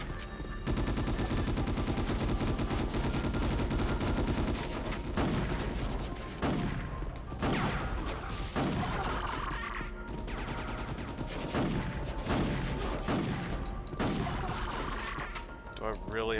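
Enemy guns in the video game Ghost in the Shell: Stand Alone Complex fire in rapid, repeated bursts over constant music and mechanical noise, loud and busy throughout.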